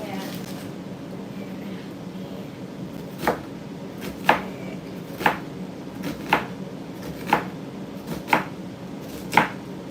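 An onion is chopped on a cutting board, with sharp knife strikes landing about once a second, close and distinct, over a low background hum.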